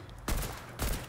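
Two short bursts of rapid gunfire in Fortnite, fairly close and loud, separated by a brief pause.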